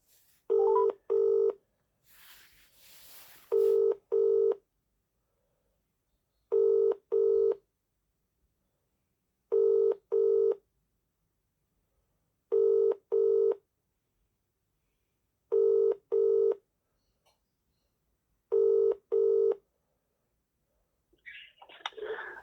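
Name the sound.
telephone dialing and ringing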